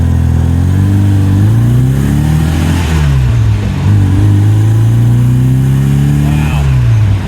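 Open-top MG A sports car accelerating, its engine revving up through rising and falling pitch sweeps as gears change, loud and close with steady wind and road noise.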